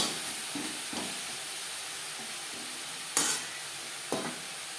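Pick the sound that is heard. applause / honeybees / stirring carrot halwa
stirring carrot halwa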